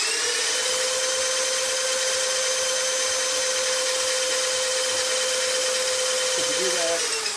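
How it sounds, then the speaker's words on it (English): An electric drill spins six-inch aluminum shells on a polishing jig, giving a loud, continuous high-pitched whine that stays steady and close throughout, with no talking. "I'll have them cranked up so I can spin them at full speed with the drill."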